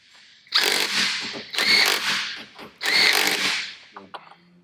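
Bolts being power-driven into an outboard motor flywheel puller plate during a timing belt replacement, three close, loud whirring bursts of about a second each, followed by a few light metallic clicks.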